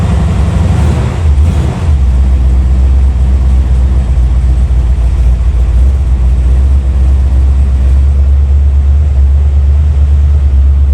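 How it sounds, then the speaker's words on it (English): A barn-find 1980 Chevrolet Malibu with a big block V8 idles after a cold start, a loud, steady low rumble that holds unbroken throughout, close up, with a brief dip near the start. "let her run for a little bit here and get warmed up"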